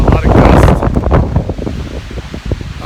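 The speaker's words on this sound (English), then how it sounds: "The wind is very strong." Strong, roaring wind gusts buffet the microphone on the summit of Black Dome mountain, loud and rushing at first, then easing into lighter, fluttering blasts.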